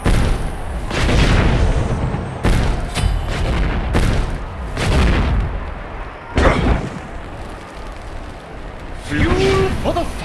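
Fiery ability blasts from the Agni skin in a video game boom and burst in loud repeated waves, with a character voice calling out over the explosions.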